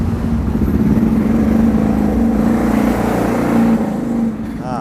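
A 300cc CVT four-wheel-drive ATV engine runs loud and close through its racing-style exhaust, holding a steady droning rev before easing off near the end.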